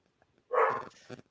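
A dog lets out a single close, loud bark followed by a shorter, softer yip, alone in an otherwise quiet room.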